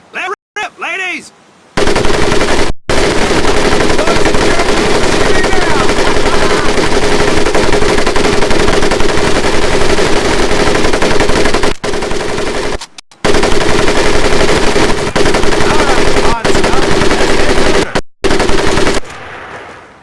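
Mounted machine gun firing in the World War II shooter Medal of Honor: Pacific Assault during boot camp training, long sustained bursts of rapid loud gunfire broken by a few brief pauses.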